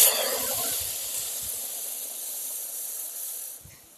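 Spiced ground masala paste hitting hot mustard oil with cumin seeds for a mahurali fish besara, giving a loud, steady frying hiss that rises sharply at the start, then holds and fades slightly toward the end, with no talk.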